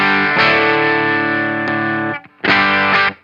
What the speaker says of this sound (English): can hear it squashing down the sound and leveling out any transients